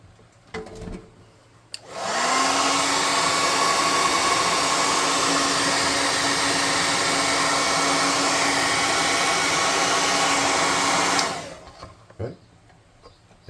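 A hair dryer blowing air to dry paint on a miniature figure runs loud and steady for about nine seconds, starting abruptly and cutting off cleanly, with faint handling noises before and after.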